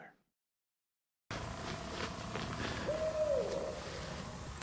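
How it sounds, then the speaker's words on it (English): Owls hooting in Pennsylvania woods on public land during rifle deer season, a single soft tonal hoot rising briefly out of a steady outdoor ambience after a stretch of silence, moderately distant and faint. "Those owls are still going off."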